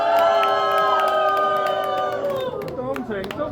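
A crowd cheers and whoops at a fan-meeting concert and birthday party, many voices shouting together loudly and steadily for a few seconds with scattered higher yells.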